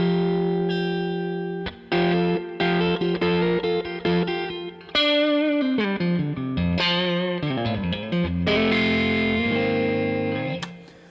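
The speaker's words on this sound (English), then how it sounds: "that's kind of a long plate reverb that I've got going" Sustained electric guitar with heavy distortion and effects, phrases ringing out into a long plate reverb tail; loud, close and solo with no talking.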